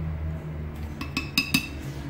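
Spoons clink against a bowl while pancake batter is being made, a handful of quick bright taps in the second half over a low steady hum, close and fairly loud.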